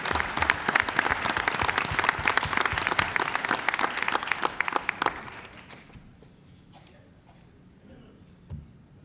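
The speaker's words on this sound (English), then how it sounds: "Let's give her a round of applause." A room at a school board meeting claps loudly for a retiring high school Spanish teacher, with brisk applause lasting about five seconds before it abruptly fades into quiet room tone and a brief murmur.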